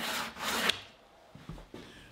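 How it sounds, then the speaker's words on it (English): A couple of brisk strokes of 50-grit sandpaper on a sanding block rasping across wood, followed by softer, intermittent scraping. "I'll use 50 grit sandpaper and a sanding block to remove the blade marks."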